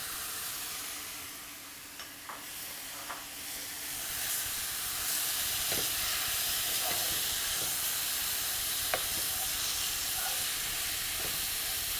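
Three medium-sized tomatoes frying in a pan for a Kerala chicken roast with gravy, giving a steady broad hiss and sizzle with a few soft clicks of stirring, close and continuous throughout.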